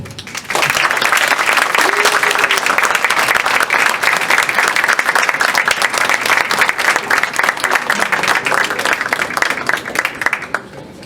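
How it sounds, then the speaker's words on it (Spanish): A large audience at a library day award ceremony breaks into loud, sustained applause, dense rapid clapping from many hands that holds steady for about ten seconds before fading. "Brindémosles nuevamente un fuerte aplauso."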